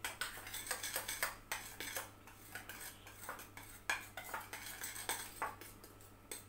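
A spoon stirring a homemade foot-care mixture in a bowl, quiet repeated scraping and clinking strokes in a steady rhythm over a faint background hum, with no voices.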